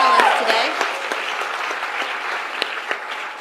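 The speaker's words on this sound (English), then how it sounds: "Please, a round of applause to our wonderful panelists today." Audience applause for panelists at a morning session of the She the People Summit 2018, dense and continuous clapping from a room of people, fairly loud at first and gradually thinning out over a few seconds.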